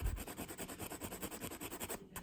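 A sanding block rubs back and forth across a metal watch bracelet to remove scratches, a close, quiet, rhythmic rasping with evenly spaced strokes and a brief pause near the end.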